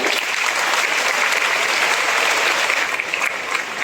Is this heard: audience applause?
yes